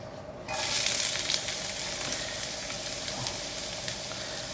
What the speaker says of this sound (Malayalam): എണ്ണ ഒന്ന് ചൂടാവുന്ന പുറകെ നമ്മൾ സവോള അങ്ങ് ഇടുവാണേ.